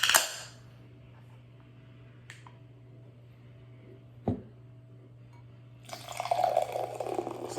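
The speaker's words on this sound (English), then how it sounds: "So we're going to put the Miller High Life into the glass." Miller High Life beer pours from a large can into a glass: quiet at first with a couple of faint clicks, then a bubbly, fizzing glug of liquid filling the glass rising near the end.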